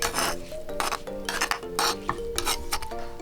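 Chopped red onion drops into a bowl while pebre is being made, giving several clattering, scraping bursts of pieces against the dish, fairly close and unaccompanied.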